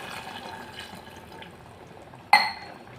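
A glass of water poured into an aloo mutton curry in a home kitchen, heard as a sudden short splash and gush of liquid after a quiet moment.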